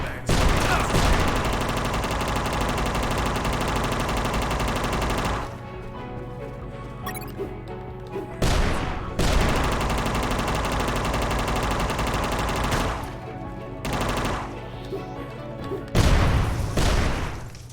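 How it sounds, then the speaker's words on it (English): Sustained bursts of machine gun fire during a boss fight in the video game UnMetal, loud and dense with booms, broken by a few short pauses between long volleys. "You destroyed my machine gun!"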